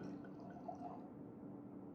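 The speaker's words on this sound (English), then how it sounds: "top up a little bit more brandy in this tulip glass" Brandy trickling and dripping into a tulip glass, a faint, soft liquid pour heard close up with no one talking.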